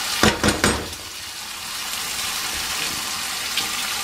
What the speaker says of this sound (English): Getting nice and brown underneath